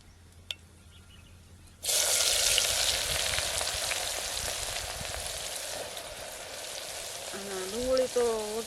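Hot oil in a village kitchen bursts into a loud, steady sizzle of tempering with mustard seeds, asafoetida and onion, starting abruptly and continuing as a dense crackling hiss with a brief tonal sound near the end.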